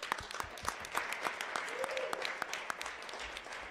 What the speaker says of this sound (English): let's clap it up for our Community Voices